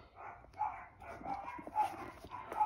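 Dogs bark in short, repeated yips and woofs at a moderate distance, with faint talk in the background.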